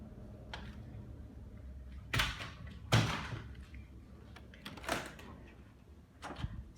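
Storage doors in a Wilderness Club room are opened and shut by hand, producing several separate wooden clunks and soft thuds spaced a second or two apart, close by in a quiet room.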